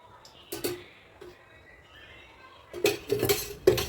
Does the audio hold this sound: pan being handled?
yes